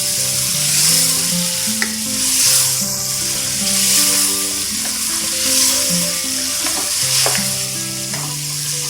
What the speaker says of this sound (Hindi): अब इसमें हमने मटन डाल देंगे। अब इस मसाले में हमें इसको 5 मिनट तक फ्राई करेंगे।